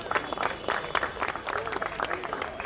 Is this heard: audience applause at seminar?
yes